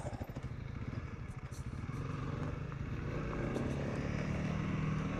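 A Honda CRF300L dual sport motorcycle rides along a canyon road, its engine a steady low drone with faint rattles, heard from on board at a moderate, even level.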